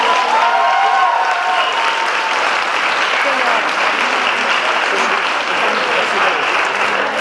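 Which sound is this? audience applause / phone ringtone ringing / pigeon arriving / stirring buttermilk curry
audience applause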